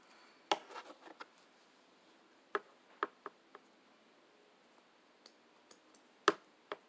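Scissors snip ear holes into a sock for a no-sew face mask, giving a handful of sharp, close clicks in loose clusters with quiet pauses between them and no talking.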